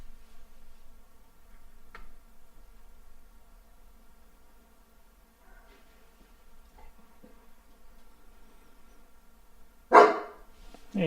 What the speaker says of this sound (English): Hey, no barking, buddy. No barking.